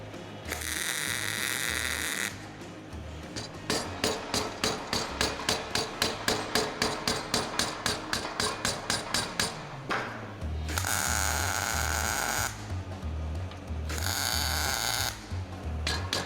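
Tack welding on rectangular steel tube: loud bursts of welding hiss alternate with a fast, even run of sharp metallic taps, close and alone with no voices.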